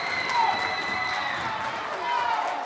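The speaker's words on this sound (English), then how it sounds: "the crowd really getting loud for Fitchburg with any real positive outcome" Basketball crowd in a high school gym cheering and getting louder for Fitchburg, a steady roar of voices with some whistles rising and falling, continuous and fairly loud.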